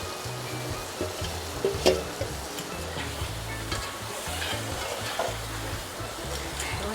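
Continuous sizzling and crackling of crab frying in a pot, with occasional clinks and stirring scrapes, close up and steady throughout.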